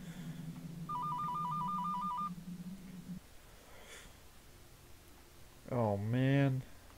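A telephone rings in the video game Paper Mario's Rogue Port during a Red Nightmare playthrough, as a synthetic trilling ringtone repeating in a steady pulse for about a second and a half over a low hum, with a voice talking later.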